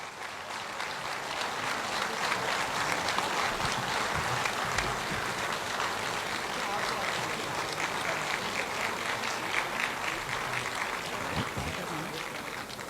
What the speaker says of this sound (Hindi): आप लोगों की ज़ोरदार तालियों के बीच में वसीम बरेलवी साहब